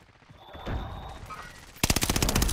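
Gunfire in the Warzone battle royale game: a few distant shots, then a loud, close burst of rapid automatic fire near the end, briefly following a quieter stretch.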